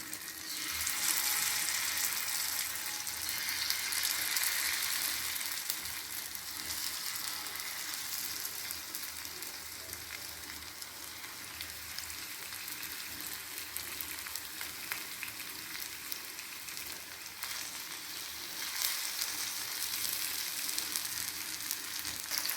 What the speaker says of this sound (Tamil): எண்ணெய் இப்போ சூடாகிடுச்சு. ஒரு மீனாக இப்போ நம்ம தோசைக்கல்ல வைக்கிறோம்.